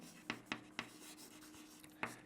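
Pen scratching on paper during a physics lesson on ray optics, five short quiet strokes spaced unevenly over a faint background hiss, with no talking.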